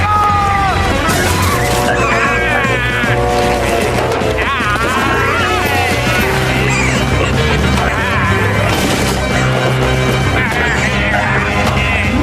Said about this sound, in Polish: traktor wymknął się spod kontroli